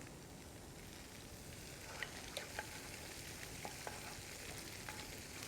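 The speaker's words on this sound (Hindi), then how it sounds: "खतरनाक गर्मा गर्म करी, जितनी स्प्लटर करती है करी उतनी खिल कर निकलती है।" Hot curry poured over peas for methi malai matar sizzles and splatters with a soft, steady hiss and a few scattered sharp pops, faint and close with no voices.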